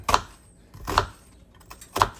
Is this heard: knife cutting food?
yes